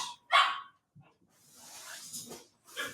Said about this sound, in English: Especially when the dog is crying